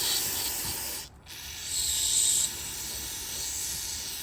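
Continuous hissing spray from an aerosol can of parts cleaner onto a Yamaha motorcycle petcock, with a brief pause, then a stronger burst before settling back to a steady hiss.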